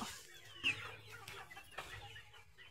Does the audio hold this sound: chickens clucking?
yes